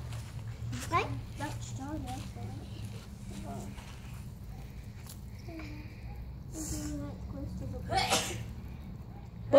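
A single sneeze during rooster preparation in a kitchen, a sharp burst set among children's chatter and other voices, with low background hum throughout.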